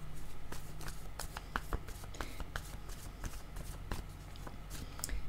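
Cards being shuffled for a tarot-style reading, a soft, steady run of papery flicks and taps close by, with no voices.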